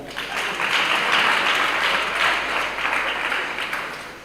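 Audience applause at the finals of a schools debate championship, a broad, sustained roar of many clapping hands that swells to a loud peak and then tapers slightly near the end.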